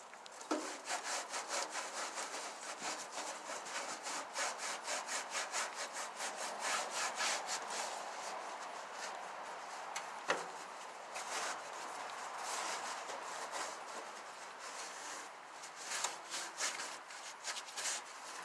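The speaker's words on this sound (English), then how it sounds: "Now we can start scrubbing it down." An old grill, soapy after washing, is scrubbed hard with a brush in steady continuous back-and-forth strokes, close and fairly loud, with a few sharper knocks along the way.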